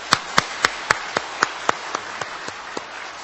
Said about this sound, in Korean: 우리에게 이 새벽에 은혜를 주신 우리 하나님께 감사와 영광의 박수를 한번 돌려드리겠습니다.